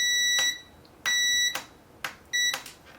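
Three short electronic beeps sound in an uneven rhythm, each crisp and close, separated by brief clicks and quiet gaps.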